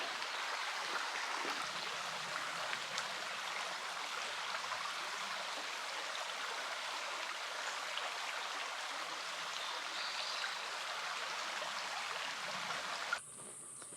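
Shallow stream about a foot deep on the Appalachian Trail, where a hiker rests soaking their feet, giving a soft, steady, faint rushing and trickling of water with no talking.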